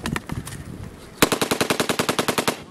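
An M249 SAW machine gun on a firing range lets loose a sustained burst of rapid, evenly spaced shots after a short scattered opening, loud and close with no talking over it.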